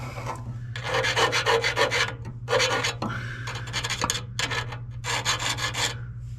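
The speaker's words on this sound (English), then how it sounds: "clear off the end of this line for burrs without getting filings inside the line" A hand file rasps back and forth across the cut end of a metal fuel line on a second-generation Toyota 4Runner, in close, rhythmic bursts of strokes separated by short pauses, over a low steady hum.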